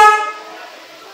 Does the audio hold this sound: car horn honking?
yes